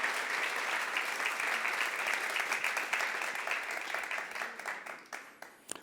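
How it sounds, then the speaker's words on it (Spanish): Loud, dense applause from a full-house audience at a church evening event at Alfa Omega, sustained throughout before thinning and breaking into scattered claps near the end. "Quiero que se den un buen, fuerte aplauso por estar aquí con nosotros esta noche"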